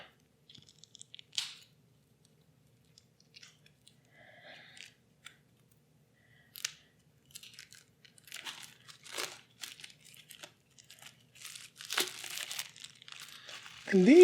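Tight plastic wrap being torn and peeled off a Machina Arcana Premium 2nd Edition board game box, with intermittent close crinkles and rips building in density toward the end, where a voice begins.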